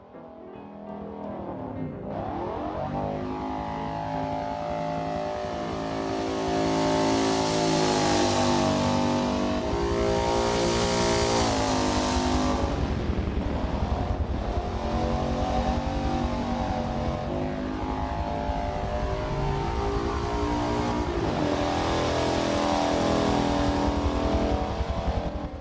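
Simulated Citroën 2CV engine lapping Laguna Seca in Forza Motorsport, a steady droning motor with harmonic bands rising and falling through gear changes, loud and continuous with no talk.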